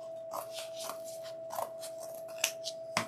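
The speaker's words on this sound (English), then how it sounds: "we'll start cutting some of this off." Scissors snip through craft material for a Halloween crystal ball and canvas in a Dollar Tree frame, a series of close, crisp cuts at an irregular pace over a faint steady hum, without any voices.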